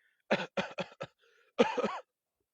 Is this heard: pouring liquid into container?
no